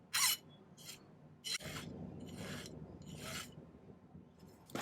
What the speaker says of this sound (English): Just filing those to get those straight.